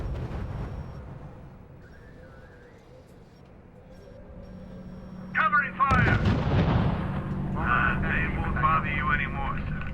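Covering gunfire and artillery in a R.U.S.E. Market Garden battle: low rumbling booms, then sharper loud blasts and crackling fire after a sudden impact midway, with voiced unit callouts over it.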